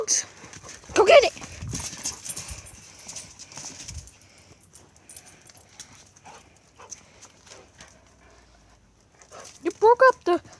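Dogs scramble and play with new balls indoors, giving scattered thumps, scuffles and paw clatter, with a person calling out to them at the start and sharp excited yelps near the end.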